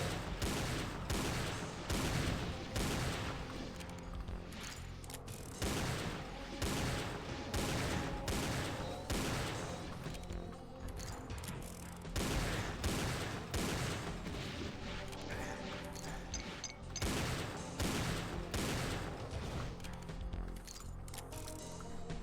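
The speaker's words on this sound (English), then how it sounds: "Who the frick is shooting at me?" Rapid, continuous gunfire in Doom 2, dense bursts of shots and explosions overlapping almost without pause for over twenty seconds, loud and close with no speech.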